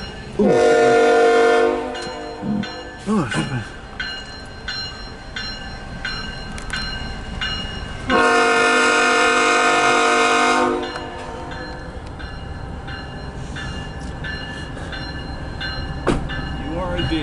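A train pulls out with BNSF locomotives, sounding two long, loud horn blasts over a heavy engine rumble close by, with quieter rolling and clanking between the blasts.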